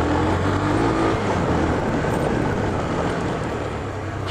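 An original Honda Twister 250 motorcycle engine runs loud and close with a steady, dense roar that holds at a constant level throughout, with no talking.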